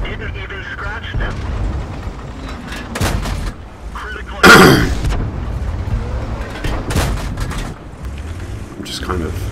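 A tank cannon fires in World of Tanks with a single loud, sharp boom, among other muffled battle rumbles and thuds, while someone talks over the action.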